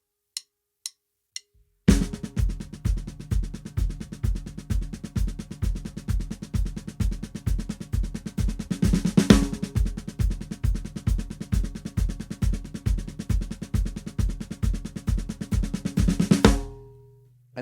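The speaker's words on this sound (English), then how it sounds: "the drummer adds an accent on the first beat and then plays like low 16th" Drum kit in the bridge of a worship song: a few isolated hits, then a driving stream of low sixteenth-note drumming with crashing accents on the first beat, loud and continuous, ending in a final crash.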